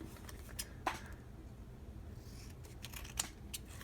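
Scissors snip through paper in short, quiet cuts, a few crisp clicks standing out over a soft background hum with no talking.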